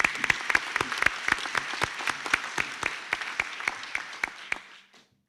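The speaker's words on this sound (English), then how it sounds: "Please give Damien a round of applause." A small graduation ceremony audience claps for a computing graduate. The sparse, rhythmic hand claps are fairly close and steady for a few seconds, then taper off and stop.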